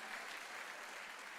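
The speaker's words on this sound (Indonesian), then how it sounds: "Tepuk tangan buat Tuhan kita yang hebat." A church congregation applauding, a dense, even wash of many hands clapping at moderate distance, continuous and without pauses.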